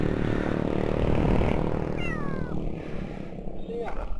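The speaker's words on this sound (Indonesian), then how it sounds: "Aduh, ini kucing kelindes, kasihan." A cat that has been run over and hurt in its leg meows in short, rising cries over steady traffic rumble and nearby voices, fairly close and clear above the road noise.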